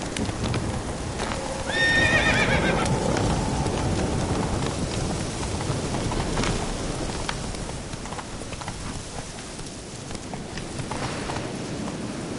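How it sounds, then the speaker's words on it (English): Roach the horse in The Witcher 3 video game whinnies once near the start over running hoofbeats, with a rain-like wash of ambient noise continuing throughout. "Whoa there, Roach."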